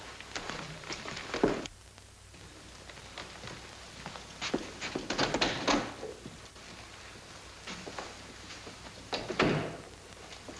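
A door in a house is opened and closed, with thunks and latch clatter spread across several seconds of muffled room noise, one firmer knock near the start and more handling sounds later.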